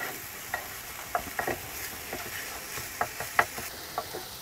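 A thick curry base paste cooks in a pan with a low, steady sizzle, broken by soft scattered stirring scrapes and small pops, close and fairly quiet.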